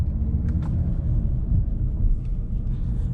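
An Audi RS3 driven at normal pace gives a steady, low, muffled engine rumble heard from inside the cabin, with no voices over it.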